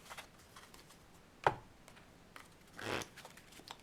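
LZY playing cards being shuffled by hand, a sharp riffle snap followed a moment later by a longer soft rustling burst, close and quiet.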